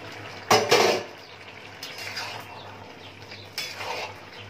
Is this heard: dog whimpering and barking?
no